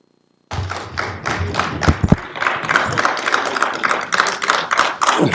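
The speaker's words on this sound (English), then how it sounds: "I join you in clapping in response to your kind welcome for me on this podium." Members of the Pan-African Parliament clap in welcome during a plenary session, a sudden burst of dense, sustained applause with scattered louder thumps that continues to the end.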